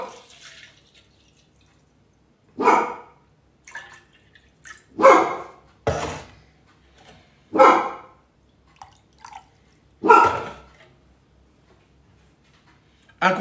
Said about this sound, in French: n'ayez pas de chien dans la pièce à côté parce que ça fait du bruit